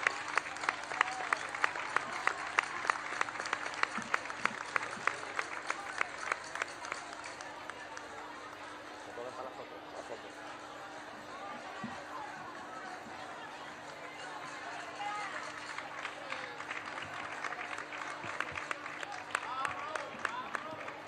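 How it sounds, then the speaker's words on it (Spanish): Outdoor crowd at the Feria del Caballo in Jerez de la Frontera applauds a third-prize winner in a fair-booth contest, a steady sustained clapping that swells again near the end, with faint crowd chatter and a low hum beneath. "Recibe Isabel de Mora un fuerte aplauso"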